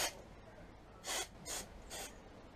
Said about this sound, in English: So now I'm just going to give it a little bit of a spray with the carb cleaner.